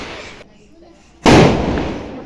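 A Diwali firecracker goes off with a single loud, sharp blast partway through, its crackling roar slowly fading after a quieter stretch of outdoor background.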